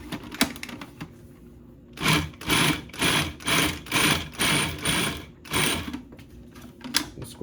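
A food processor pulses a rice and beans mixture in a run of about six short, loud mechanical bursts with brief gaps between them, then a few lighter knocks as it stops.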